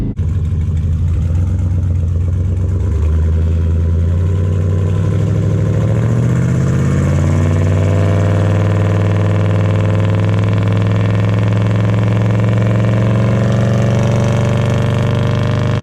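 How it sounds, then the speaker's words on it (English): A GMC truck with a 3400 stall converter tows a load, its tailpipe exhaust close and loud, a deep steady drone that climbs in pitch as the truck accelerates, with no voices over it. "We got a camera set up on the back, so we'll give you some exhaust notes."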